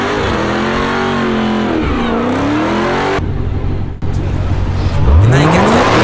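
A Hellcat car engine revs hard and close, loud throaty roar with rising and falling pitch sweeps, a brief cut, then another climbing rev.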